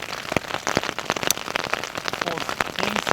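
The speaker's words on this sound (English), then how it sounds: "the rain getting to my face" Rain falls steadily outdoors, a dense, loud patter of drops striking surfaces close by, with no voices.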